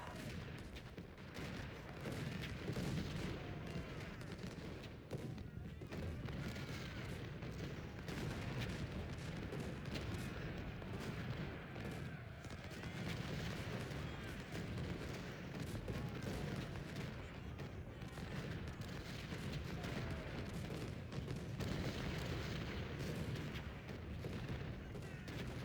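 Civil War cannon artillery fire in Ultimate General: Civil War, a dense, continuous barrage of booms and crackling musketry layered over one another, rumbling without a break for the whole span.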